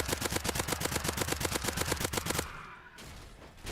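Rapid automatic gunfire from a post-apocalyptic survival video game, a steady burst of evenly spaced, loud shots that stops abruptly, followed by quieter rumbling game ambience.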